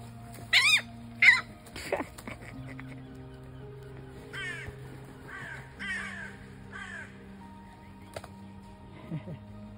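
Crows in a family group caw in short, hoarse calls, several loud and close early on and more scattered later, over a steady low background hum on a Sunday morning.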